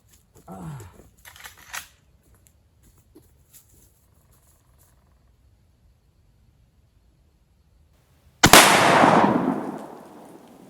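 A single loud, close rifle shot from a Marlin 1895 cracks out near the end, with a long rolling outdoor echo. Brief soft speech and faint handling sounds come before it.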